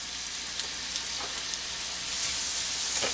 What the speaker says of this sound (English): Yeah, you're hearing that sizzle.